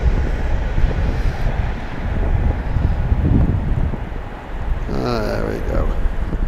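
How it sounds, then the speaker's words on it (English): Steady outdoor breeze rumbling across the microphone on Manchester's south side near an airport, a continuous low whoosh with gusts, while a voice talks briefly near the end. "we've got a nice breeze, but it's not cold"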